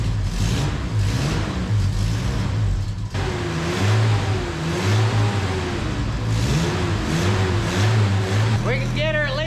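Old carburetted engine of a 1981 minitruck, running flooded, cranks and catches into a steady rough idle with uneven revving, close and loud, while people talk over it.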